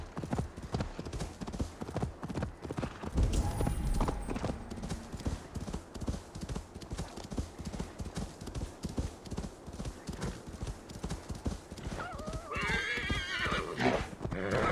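A horse in the video game Assassin's Creed Valhalla gallops with rapid, rhythmic clip-clop hoofbeats that keep going steadily, broken by a whinny and a voice talking over the hooves.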